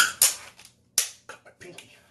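A pistol reloaded during dry-fire practice: a quick series of crisp metallic clicks and snaps, close and distinct, separated by brief silent gaps.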